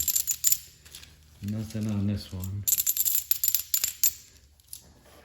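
Coins clink and rattle in bursts as they slide together inside a coin roll, including a 90% silver Kennedy half dollar, with a brief spoken remark in the middle.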